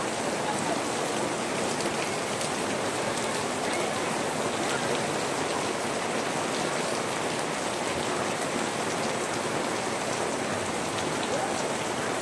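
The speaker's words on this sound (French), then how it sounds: "On sort juste de la grotte et là, grosse averse quoi." A heavy rain shower falls right after leaving a cave, a dense, steady hiss of rain pouring onto surfaces that stays loud and unbroken throughout, close by, with no voices.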